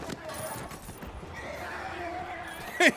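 A horse in the Xbox game Darkwatch moves with steady hoofbeats under a low bed of ambient game noise. A short, higher whinny rises clearly near the end.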